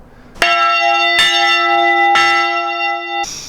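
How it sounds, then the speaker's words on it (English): The Grace Episcopal church bell rings three clear, loud strikes about a second apart, each one ringing out with a long resonant hum, followed by a short burst of noise at the end. "church bells are for call to worship, and then tolling out for the dead on days, funerals, and on All Saints Sunday and All Saints Day"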